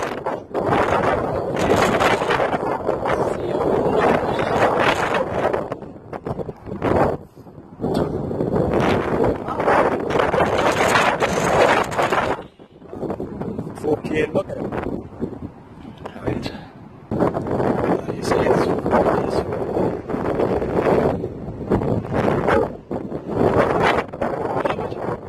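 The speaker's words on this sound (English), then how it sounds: "Wind's fucking blowing us" Strong wind buffeting the microphone outdoors at Wallsend, a loud, rumbling roar that gusts almost nonstop with a few brief lulls, and someone talking through it.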